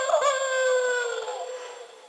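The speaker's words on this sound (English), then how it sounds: "First, it'll howl once," A single electronic wolf howl, tonal and slightly falling in pitch, sounds close and clear for about two seconds before trailing off.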